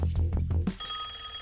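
A telephone rings with an unanswered call, a bright electronic ring tone entering sharply after a short burst of low knocking sounds and holding steadily at close range.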